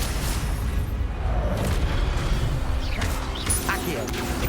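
An Incendio fire spell cast in Hogwarts Legacy, a roaring whoosh with a deep rumble that runs the whole length, steady and loud, with short whistling and crackling flourishes near the end.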